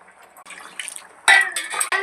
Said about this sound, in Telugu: 3 గ్లాసులు బియ్యం వేసుకున్నాం కాబట్టి 6 గ్లాసులు నీళ్ళు అయితే పోసుకుంటాం అనమాట.